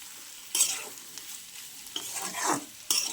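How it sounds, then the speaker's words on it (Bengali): Noodle spice mix with vegetables fries in a pan, heard as quiet sizzling broken by several sharp bursts of stirring and scraping, with no talking. "আর মশলাটা দেওয়ার পর আমি একটু ভেজে নেবো"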